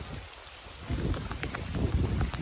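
Rain falls steadily outdoors on a farm, a dense hiss that grows louder after the first second and stays constant, with no talking.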